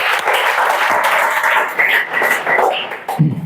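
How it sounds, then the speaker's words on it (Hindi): A class at a coaching session for police recruitment exams claps hands together, a loud burst of close, crowded clapping that thins out toward the end, with a voice briefly cutting in. "ताली बजा दो एक बार।"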